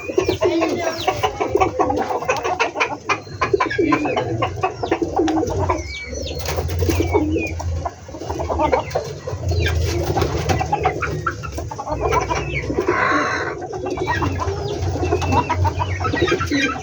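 Pigeons, including blue bar checkered birds, coo repeatedly in a loft at close range. Their overlapping throaty calls and rustling fill the air steadily, and there is no speech.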